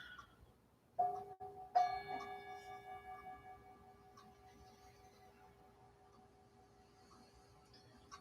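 A ritual bell rings during a fire puja to the eight mother goddesses, two clear strikes about a second apart, each leaving a long, pure shimmering tone that slowly fades into a quiet room.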